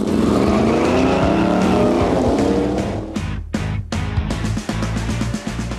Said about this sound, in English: over on the strip, they're tearing up the track.